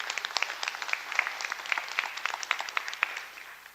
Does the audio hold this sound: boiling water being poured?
no